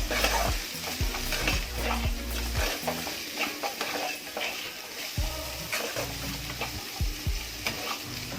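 Carrots and chopped beans stir-frying for restaurant-style mixed fried rice, a steady loud sizzle with repeated scraping stirs of a spatula against the pan, close up and with no talking.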